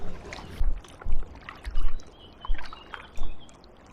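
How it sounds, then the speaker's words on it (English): A canoe paddle dips rhythmically into the River Medway near Teston, about six soft splashing strokes spaced roughly half a second apart, close by over faint flowing water. "While we're paddling towards it and under it"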